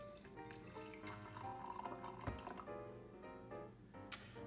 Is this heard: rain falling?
no